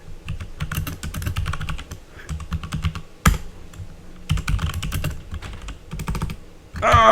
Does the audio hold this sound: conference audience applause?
no